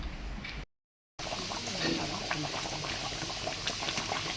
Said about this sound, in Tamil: மீன் குழம்பு இந்த அளவுக்கு நல்லா தளன்னு கொதிச்சு வரணுங்க